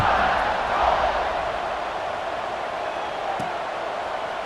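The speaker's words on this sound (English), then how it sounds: "this crowd is buzzing after that last score" Stadium crowd at a college American football game after a score, a dense continuous roar of cheering voices, loud and steady throughout with no single voice standing out.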